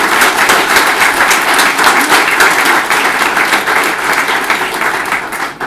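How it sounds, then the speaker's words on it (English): An indoor audience at a talk on engagement breaks into sustained, dense applause, many hands clapping loudly and steadily for several seconds before tapering slightly. "I'd like to give you a huge round of applause."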